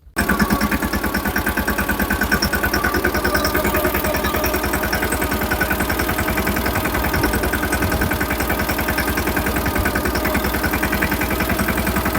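A Sonalika four-wheel-drive tractor engine runs steadily at a low, even idle-like throb, close and loud, with a continuous rhythmic pulsing and no talk over it.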